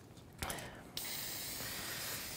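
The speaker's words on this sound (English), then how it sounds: "give it a quick spray with workable fixative" A workable fixative aerosol can sprays over an art journal page, a soft steady hiss starting after a brief click and holding close and even until the end.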